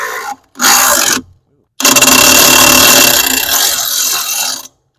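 An old Metabo HPT impact wrench works on trailer lug nuts in several loud bursts: a short rattle, a second hammering burst, a pause, then a long sustained hammering run before it stops.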